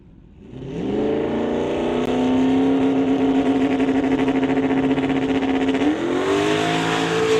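The Night Shift Mustang drag race car from Jawanda Motorsports launches in an Outlaw 275 event, its engine roaring up loud and close, then holding a steady, high-pitched howl with a brief gear-change dip near the end.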